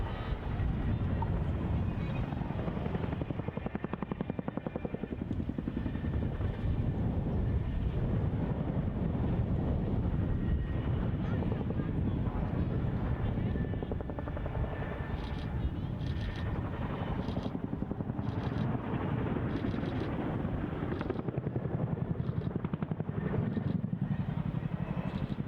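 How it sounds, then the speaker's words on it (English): Boeing Chinook twin-rotor helicopter flying a roll demonstration display at RAF Cosford air show in 2025, a loud continuous rotor and turbine roar with low throbbing blade beat and wind buffeting, steady throughout with faint crowd and commentary beneath. "the 2025 Chinook Roll Demonstration"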